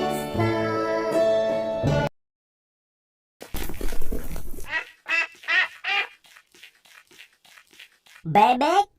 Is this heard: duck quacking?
yes